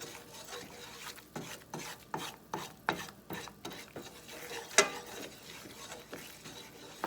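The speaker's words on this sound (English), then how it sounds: "I'm going to start stirring for a minute, just so that the heat can kind of get to the batter here a little evenly" Spoon or spatula stirring egg batter in a pan of brown butter, soft rhythmic scraping strokes repeating at a steady pace, quiet and close, with one sharper clink midway.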